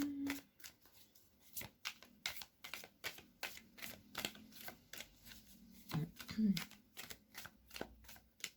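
Tarot cards being shuffled in quick, repeated riffles and flicks, a steady run of crisp papery snaps with a voice talking softly now and then underneath.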